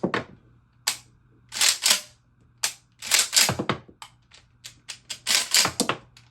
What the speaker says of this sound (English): I was just trying to test these snap caps out.